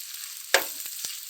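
Onions and tomatoes fry in a pan, a soft continuous sizzle with one sharp stirring scrape and a couple of light clinks, close and fairly quiet.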